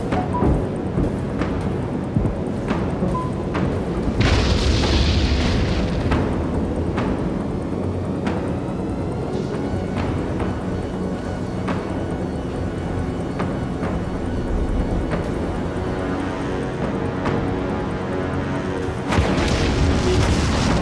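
A huge enemy dreadnought starship blows apart in the space combat game Dreadnought, a dense, sustained rumbling boom with repeated heavy blasts and crackling debris over about twenty seconds, loud and continuous with a fresh burst near the end.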